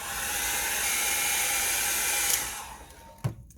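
A hair dryer roars loudly and evenly while drying alcohol ink on a flower card, then cuts off after a couple of seconds, followed by a quiet lull and one soft clunk.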